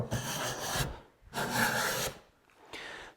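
A hand plane shaves a wooden board in three long, close rasping strokes separated by short pauses, with no talk.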